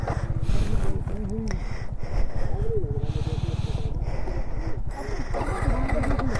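A Yamaha MT15 motorcycle low on petrol, parked on an uphill slope, churns through repeated starting attempts, its low rhythmic engine cranking steady and close while someone talks over it throughout.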